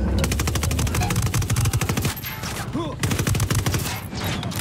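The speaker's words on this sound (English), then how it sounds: "Engaging tangos, taking fire from the checkpoint." Sustained automatic gunfire in Ghost Recon Wildlands during a checkpoint firefight, fast rhythmic bursts of rapid shots, loud and close, with a brief pause before another long burst.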